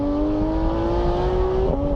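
A Porsche 911 GT3 (991) engine drones steadily at low revs around 3,000 RPM from inside the moving car, a constant loud hum with a slight pitch shift near the end.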